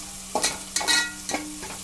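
Salted onions for a broad bean and tomato curry are stirred in a hot pan, three quick scraping strokes over a faint steady sizzle.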